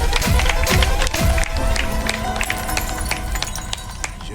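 Live show audience in a crowded venue cheering and shouting loudly, with scattered claps and whoops forming a continuous dense roar throughout.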